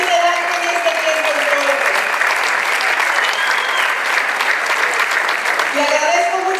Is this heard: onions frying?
no